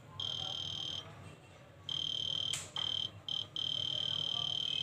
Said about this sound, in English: This is the sound of metal detector because this is not working.